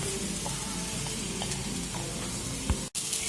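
Grated coconut roasting in hot ghee for laddu, a steady close sizzle with faint scraping stirs, then a brief clatter and a short gap near the end.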